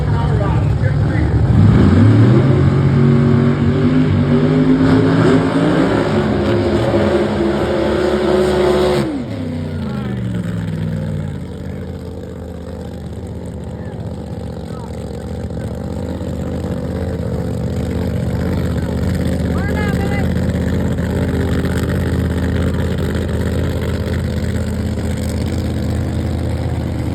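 Drag racing cars, including a nitrous-fed car against a blown entry, roar off the line at a dragstrip, a loud climbing engine scream that cuts off sharply and gives way to distant crowd and track noise.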